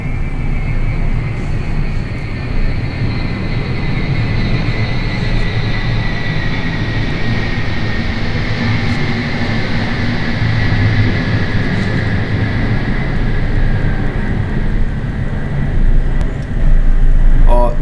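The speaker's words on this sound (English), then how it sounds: "that was a very noisy plane." A loud airplane flies overhead, its steady broad roar and whining engine tones filling the air continuously for the whole stretch, swelling slightly toward the end.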